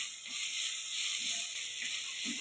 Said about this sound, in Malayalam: ഇതിലേക്ക് നമ്മൾ തക്കാളി കൊണ്ട് ഇട്ട് കൊടുക്കുക. നല്ലോണം ഒന്നുകൂടെ വഴറ്റി കൊടുക്കുക.